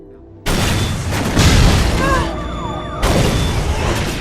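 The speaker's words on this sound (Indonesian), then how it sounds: "tiba-tiba mobil mereka semua meledak" Cars explode in an action film, a sudden heavy boom followed by roaring blast and debris noise, then a second loud detonation near the end.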